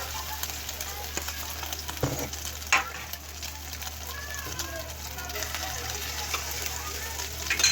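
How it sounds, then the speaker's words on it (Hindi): Egg-coated aloo chicken chutney kababs fry in a pan over a low flame, giving a steady soft sizzle with faint crackles and a few brief clatters throughout. "लो फ्लेम पे हम इन्हें सेक लेंगे क्योंकि चिकन हमारा कच्चा है"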